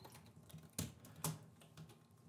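Keystrokes on a computer keyboard while code is typed for a Unity game script, a steady patter of quiet clicks with two louder key hits standing out, close and alone without any voice.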